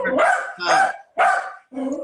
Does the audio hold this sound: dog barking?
yes